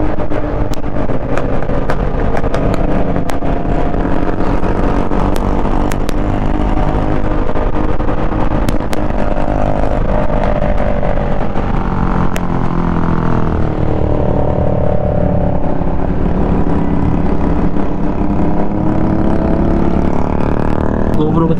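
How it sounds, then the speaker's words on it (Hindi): A Kawasaki Z900 motorcycle downshifts and accelerates on a group ride, its engine droning loud and close throughout with the pitch rising and falling through revs, under wind rush and a rider talking. "एक गियर डाउन किया और देन एक्सेलरेट।"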